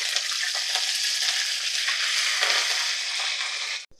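Dried red chillies and curry leaves crackle in hot oil with fried lentils in a dense, loud, hissing sizzle, a few stirring scrapes, cutting off abruptly at the end.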